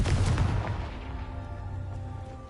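A Confringo fire spell in Hogwarts Legacy bursts with a loud, booming blast at the start, its rumble and crackle trailing off over a couple of seconds against a steady low background hum.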